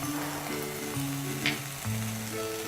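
Spices sautéing in a pan with jackfruit seeds, a continuous close sizzle with a faint stirring scrape, under a low steady hum.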